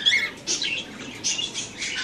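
Caged parrots give harsh, scratchy squawks in quick overlapping bursts, close by, over faint background noise and with no talk.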